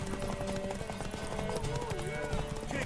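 Horse hooves clip-clopping at a steady gallop in the video game The Witcher 3, running continuously beneath a voice shouting encouragement, with game music and crowd noise mixed in.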